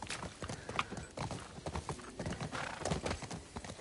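Horse hooves clip-clopping in the video game The Last of Us Part II, a close, quick and irregular run of hoof beats on hard ground with no talk.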